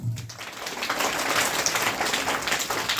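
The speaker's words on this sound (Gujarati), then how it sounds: "પહેલા તો આ સ્કૂલ માટે એક વખત તાળીઓ પાડી લો" Applause from an audience at a women's guidance programme held in a primary school in Luvana village, Tharad taluka, a dense steady clatter of many hands clapping continuously at moderate loudness with no voices over it.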